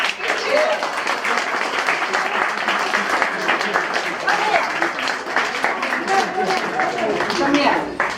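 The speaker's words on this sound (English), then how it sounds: "Please give him a big cheer." A crowd claps and cheers at a bookshop's 15th birthday celebration in Malaysia, welcoming the owner of the space; dense, steady applause with scattered whoops fills the whole stretch at close range.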